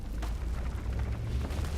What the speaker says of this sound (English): So we'll go ahead and use rock explosion.